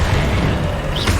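The Confringo fire spell in Hogwarts Legacy lands as a loud, short, deep boom, close and dense, with a brief bright burst near the end.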